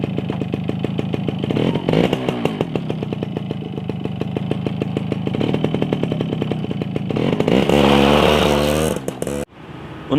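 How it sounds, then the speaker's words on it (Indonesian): An old Suzuki Tornado GX two-stroke motorcycle revving hard and accelerating, its buzzing engine climbing in pitch before cutting off abruptly near the end. "Untuk tarikan awal ternyata motor ini masih enak dan masih berasa 2 taknya."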